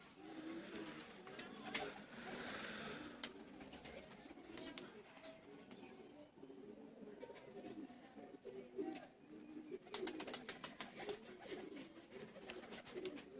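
Teddy pigeons coo softly in low, repeated murmuring calls, heard faintly alongside some rustling and light tapping, with no clear words spoken.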